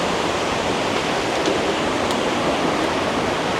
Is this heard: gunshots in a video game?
no